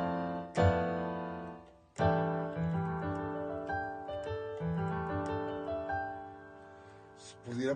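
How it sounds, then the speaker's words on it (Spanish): Piano playing a 2-5-1 progression in C using B-type voicings, a series of struck chords that ring out and overlap, moderately loud and alone. "2, 5, 1 de Do con voces B y aquí con una voz A y suena así."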